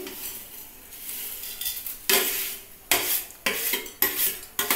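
Vermicelli and semolina dropped into a ghee-coated pan for jaggery payesh and stirred: a soft sizzle gives way to sharp, rhythmic scrapes of a metal spoon against the pan, close and loud, roughly one stroke per second.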